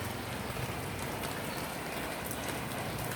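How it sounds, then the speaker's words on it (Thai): Rain falling in Mahachai, Thailand, a dense steady hiss of drops hitting surfaces, continuous and even with no pauses, moderately quiet and with no voices over it. "ฝนตกค่ะพี่น้อง"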